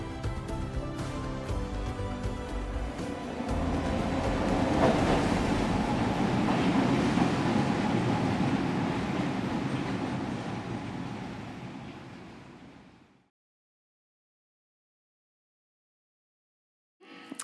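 A SkyTrain passes with a broad rumbling roar that swells to a peak midway and fades away, then cuts to near silence before a brief sound returns at the very end.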